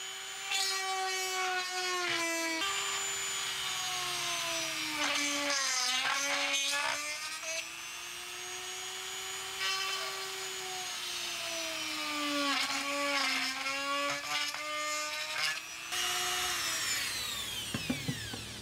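A Dremel rotary tool whines steadily at high pitch as it drills holes in plastic for a DIY underwater camera rig, its motor tone dipping and rising under load, close and loud throughout.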